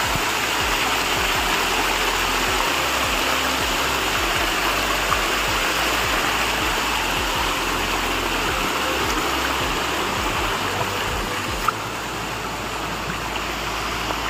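A waterfall on a hillside trail roars in a steady, dense rush of water, loud and close, unbroken for the whole stretch with no voices.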